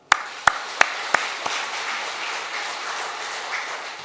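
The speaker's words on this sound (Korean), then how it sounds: "박수하겠습니다." A church congregation applauds, opening with several sharp separate claps at a steady pace before settling into a softer, even wash of clapping at moderate distance.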